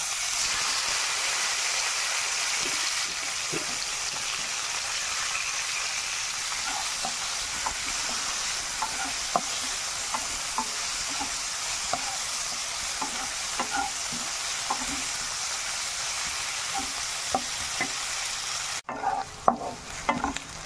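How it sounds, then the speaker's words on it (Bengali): Onions fry for chicken masala, a steady close sizzle running throughout, broken by repeated scraping and clinking as a spoon stirs the pan, with a sharp louder shift near the end. "এবার এর মধ্যে পেঁয়াজ দিয়ে ভেজে নিই।"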